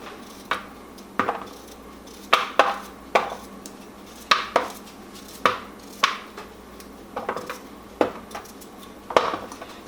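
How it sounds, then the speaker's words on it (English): A knife slices topped-and-tailed cucumbers about a quarter inch thick on a cutting board, a steady series of close, crisp chopping thuds at an irregular pace, with no talk. "then I'm going to slice them. Slice them about 1/4 inch thick"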